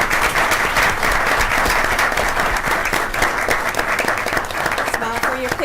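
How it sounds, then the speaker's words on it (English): An audience at a school board meeting claps loudly for a group of second graders, a close, sustained burst of dense applause with some voices mixed in. "Can we give them a round of applause, please?"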